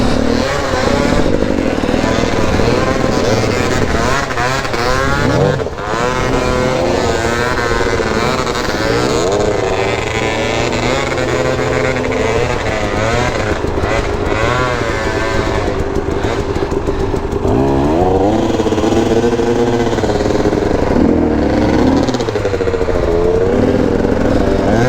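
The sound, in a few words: KTM 250 dirt bike engine riding a muddy trail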